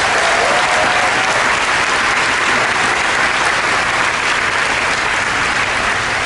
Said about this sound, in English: So how about another round of applause really for all the Disney ambassadors